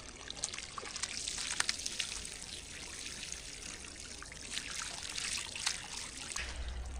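Irrigation water trickling and gurgling steadily into a village garden bed of fodder grass, a soft continuous babble with small splashy flickers, fairly quiet and close, with no talking.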